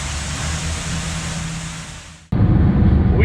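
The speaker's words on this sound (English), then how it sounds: "We just went under a waterfall." A boat passes beneath a waterfall at Milford Sound, New Zealand, with a steady broad roar of rushing, pouring water that fades slightly, then cuts sharply into a louder, closer torrent.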